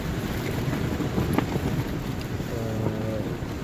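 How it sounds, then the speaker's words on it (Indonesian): Strong wind blows continuously, roaring and buffeting the microphone with a dense rushing noise throughout, while a faint voice murmurs briefly underneath near the end. "luar biasa ini angin ya"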